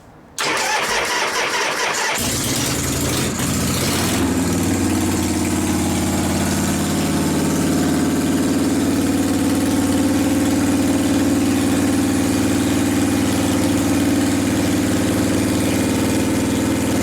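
A 1973 Harley-Davidson FX Super Glide with a 74 ci shovelhead engine fires up after a couple of seconds of cranking, then settles into a loud, steady, close-up idle with no talking.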